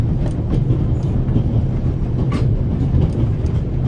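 Train running in The Raven video game: a steady low rumble with faint rhythmic clatter, continuous and fairly loud throughout.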